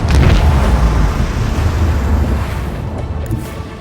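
Macro cannons of a starship in Warhammer 40k: Rogue Trader boom as a loud, dense, rumbling roar that fades slightly across the few seconds.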